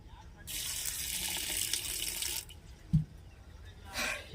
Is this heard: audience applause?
no